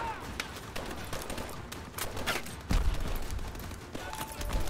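Gunfire in the video game Call of Duty: Advanced Warfare comes as rapid, scattered shots and bursts, fairly quiet and somewhat distant, with a louder impact near the middle over a rumbling background.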